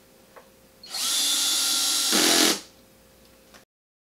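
A power drill drives a wood screw through a bent bracket into wood, whining loudly for about a second and a half, its pitch rising as it strains near the end before stopping abruptly, heard up close.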